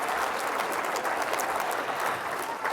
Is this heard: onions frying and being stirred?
no